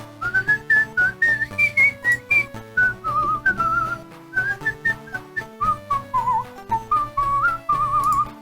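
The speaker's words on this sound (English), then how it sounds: "you can hear a little bit of a whistle in the back too" A whistled melody carries the tune in video game background music, a bright, rhythmic line of short phrases over a steady instrumental backing throughout.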